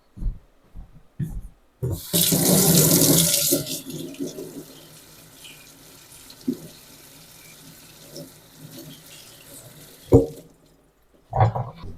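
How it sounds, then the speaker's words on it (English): A sink tap runs for about a second and a half while something is rinsed under it, set between scattered knocks and clatter of handling in a quiet room. "let me rinse this off"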